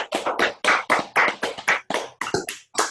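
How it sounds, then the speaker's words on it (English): About a dozen sharp, separate claps from an audience at a talk on social media analysis and COVID-19, loud and close, falling at an uneven pace like a small group clapping together. "We typically do a real clap, a real human clap."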